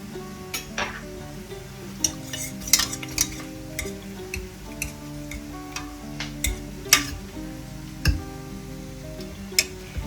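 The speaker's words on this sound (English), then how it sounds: "Now I'll smash this dal a little bit, and I'll add the salt also" Cooked dal being mashed with salt in a pot, a series of soft wet squelches with sharp spoon-on-metal clinks scattered irregularly, close and fairly quiet, with a faint sizzle in the background.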